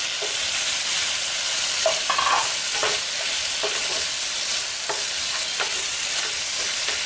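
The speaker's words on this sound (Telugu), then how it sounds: "బాగా కలుపుకోవాలి" Chicken fry being stirred in a pan on the stove, a continuous sizzle with a series of scraping, clinking strokes of the spoon against the pan, close and clear, with no voices.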